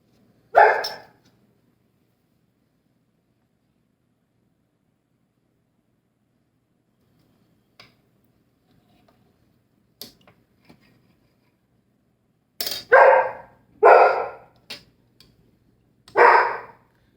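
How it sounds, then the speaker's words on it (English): A small dog lets out a few short, sharp barks: one early, then a cluster of three near the end, separated by long stretches of quiet. "The little barks that you hear is my younger dog."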